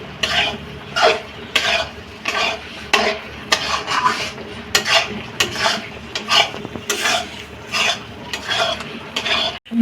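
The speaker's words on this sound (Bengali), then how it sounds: "আমার মশলা কষানো, কাজু বাদামটা কষানো হয়ে গেছে।" Cashews and spice paste are sautéed in an oily pan for a vegetarian cashew-mushroom curry. A spoon scrapes the pan in quick repeated strokes over a continuous soft sizzle, close and loud, with no talking.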